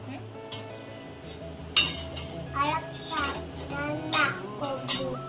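A small child plays at cooking, clinking and clattering metal pots, pans and utensils in irregular bursts up close, while a voice and an adult's speech are heard now and then.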